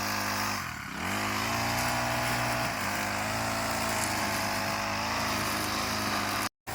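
A grass cutter runs on a mountainside with a steady, loud engine drone and whine. It dips briefly near the start, holds continuously, then cuts off abruptly at the very end.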